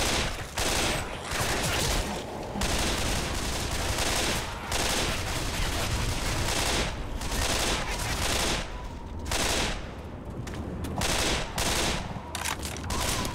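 Burst-fire weapon shooting in the video game Left 4 Dead 2, loud continuous volleys of gunfire in rapid clustered bursts, filling nearly the whole stretch with only brief pauses.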